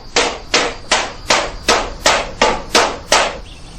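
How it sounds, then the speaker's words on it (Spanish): Metal pieces hammered into molds, nine sharp evenly spaced blows in a steady rhythm, loud and close with no voices. "Después conformaban las piezas golpeándolas en moldes."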